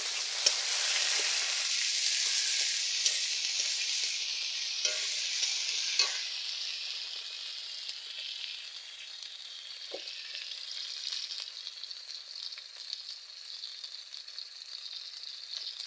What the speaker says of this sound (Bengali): বেটে রাখা আদা রসুন, একটা শুকনো লঙ্কা আর কাঁচা লঙ্কা সব একসাথে মিক্স করে নিয়েছি, দিয়ে দিলাম তেলের উপর।